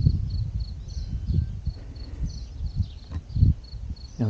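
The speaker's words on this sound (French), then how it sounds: "Et on entend les grillons." Faint, repetitive high chirping of crickets pulses in the background over low rustling and wind-like noise at a camper park in Spain, in April.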